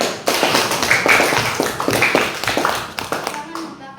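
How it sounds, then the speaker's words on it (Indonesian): Several people clap their hands in a classroom-style gathering, a quick rhythmic patter of claps running through the clip with voices mixed in underneath. "Tepuk tangan."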